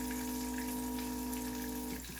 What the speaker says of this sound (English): I'm going to go ahead and add a little water